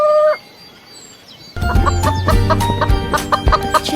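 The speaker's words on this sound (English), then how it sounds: "Chicken." A chicken clucks in a steady series of close, loud, rhythmic calls over a busy farmyard background, following a brief quieter stretch with a faint high tone.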